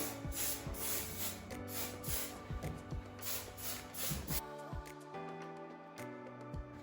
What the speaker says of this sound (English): then you just give it a little spray